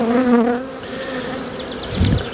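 Honey bees buzz loudly and close during a spring hive frame inspection while a nuc is transferred into a bigger box. The droning hum wavers in pitch and swells as bees pass near.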